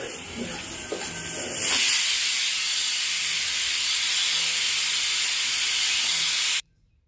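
A loud, steady hiss of steam venting under pressure from a pressure cooker whistle for several seconds, then stopping abruptly.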